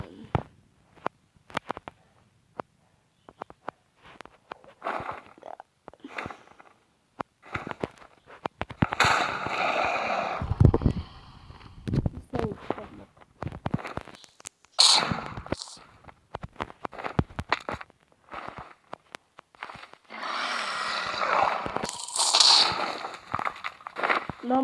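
Explosions go off against the Ender Dragon in Minecraft, a rapid series of sharp cracking blasts and crackling bursts over game sounds, with a voice talking in between.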